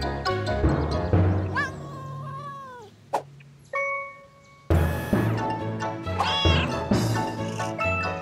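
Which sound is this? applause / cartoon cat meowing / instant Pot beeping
cartoon cat meowing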